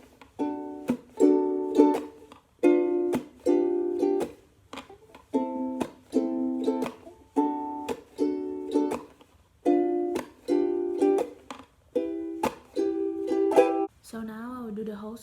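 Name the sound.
ukulele playing a song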